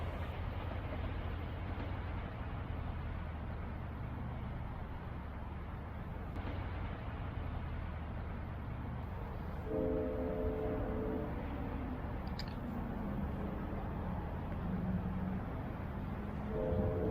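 Florida East Coast Railway Toys for Tots Santa train rolls past close by with a steady, loud rumble of rail noise, brief horn-like tones sounding near the end, with no talking.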